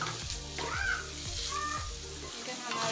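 Chicken sizzles and fries in onion and garlic in a pan, with close, steady crackling. Scraping strokes from stirring repeat about every half second.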